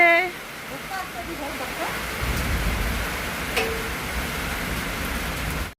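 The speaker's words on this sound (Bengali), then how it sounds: "এই যে দেখো বৃষ্টি চলে এসেছে" Steady rain noise patters throughout, with a brief voice and some birdsong at the start; a faint low rumble underneath.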